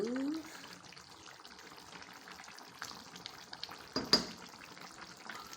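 Bitter leaf soup (ofe onugbu) simmers quietly in cookware over a low gas flame, giving a soft, steady bubbling hiss with one sharp clink near the end.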